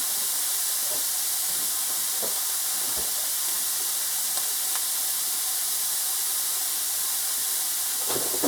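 Ground beef, onions and mushrooms browning in a pan for stroganoff make a steady, loud hiss of frying, with scattered small pops and crackles across the whole stretch.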